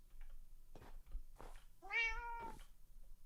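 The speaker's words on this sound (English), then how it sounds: "I hear a cat." A cat meows in the Minecraft video game, one clear drawn-out meow standing alone near the middle, with faint game noises before it.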